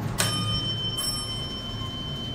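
Bell of an Atlantic Coast hydraulic elevator in Savannah, Georgia, one sharp bright ding with a ringing tone that decays over two seconds, followed by a softer second strike, over a low hum of machinery.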